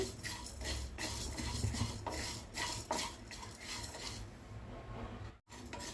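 Spices and poppy seeds are dry-roasted and stirred in a metal pan on the stove, with a steady scraping and rustling of the seeds against the pan and a brief pause near the end. The sound is faint and continuous, with no talking.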